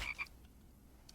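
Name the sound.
frog croaking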